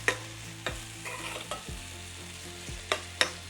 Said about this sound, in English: just mixing it.